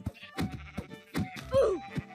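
Sheep in Minecraft give a short rising bleat near the end, amid a run of blocky thumps and footstep clicks, with no speech.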